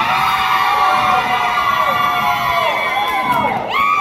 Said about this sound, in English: That was the exact same decibel of screams.